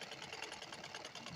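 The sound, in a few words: sewing machine stitching blouse shoulder seam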